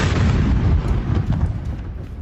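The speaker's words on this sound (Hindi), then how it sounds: "हमास की इमारत पर विध्वंसक एयर स्ट्राइक हुई है।" A heavy, rumbling explosion from an airstrike on a building in Rafah, one sustained loud roar that slowly fades over about two seconds, with no voices.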